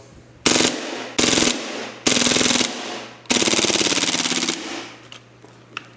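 A Raptor/Lambda SR-2M gas blowback airsoft replica fires on full auto in four loud, close bursts of rapid, evenly spaced cracks, each burst longer than the last, with a low steady hum beneath and faint clicks after.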